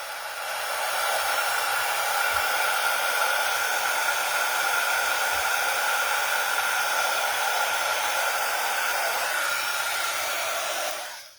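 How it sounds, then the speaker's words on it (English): Heat gun blowing on glitter card from the back, a loud, steady airy hiss that starts abruptly, holds evenly for about ten seconds and then cuts off. "Just let your heat gun heat up,"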